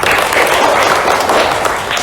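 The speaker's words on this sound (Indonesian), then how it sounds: "tepuk tangan untuk kita semua" A classroom of primary school pupils claps together in a steady, continuous patter of many hands that lasts a couple of seconds, close and fairly loud, with no clear voices over it.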